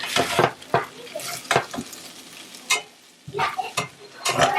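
Potatoes and chorizo are stirred in a frying pan with a spoon, giving repeated scraping, clattering strokes with brief pauses between them over a soft sizzle.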